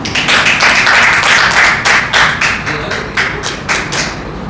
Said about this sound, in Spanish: le doy un aplauso a Cristo.